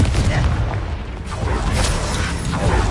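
A Confringo blasting spell explodes in Hogwarts Legacy, a heavy booming blast with a crashing rumble that swells, dips briefly, then surges again across a few seconds of game combat.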